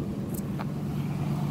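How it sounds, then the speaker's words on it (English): A car passing on a road near a graveyard, a steady low rumble that holds at an even level throughout, close and continuous with no talk over it. "that's the second car I've seen"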